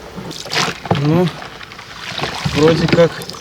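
A rowboat launched into still water thick with weeds and duckweed, with soft splashing and trickling of water around the hull, alongside people talking close by.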